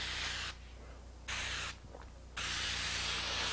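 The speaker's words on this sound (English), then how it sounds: "I'm going to spray the light on the other side now" An airbrush sprays paint onto a portrait in three steady hissing bursts, the first two short and separated by quiet gaps, the last longer and continuous, all close and fairly loud.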